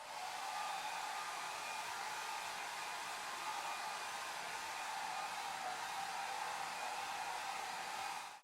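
A hair dryer in the Roblox Bloxburg video game, blowing as a steady, even whooshing whir from start to finish, with no talking.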